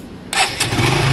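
Suzuki Gixxer SF motorcycle with a new battery fires up on the first press of the push-button starter, a brief quiet lead-in then an abrupt loud catch settling into a rough idle.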